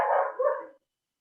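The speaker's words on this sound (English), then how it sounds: "my dogs are now barking" A household dog gives a single loud, close bark that trails off, followed by silence.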